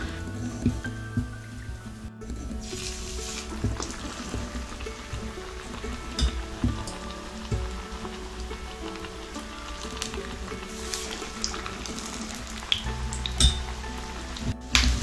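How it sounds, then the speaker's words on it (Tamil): Green pea vadas fry in hot oil on a medium flame with a close, continuous sizzle and bubbling, dotted with small pops and crackles. "எண்ணெய் காஞ்ச உடனே மீடியம் ஃப்ளேம் வச்சு நம்ம வடையை சுட்டு எடுத்தால் சரியாக இருக்குங்க"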